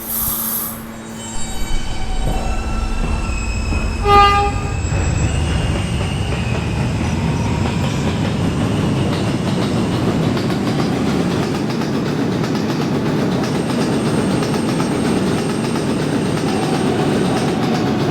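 An R160A subway train rolls along the K line, a steady loud rumble of wheels on track with a brief squeal early on and continuous running noise throughout, no voices.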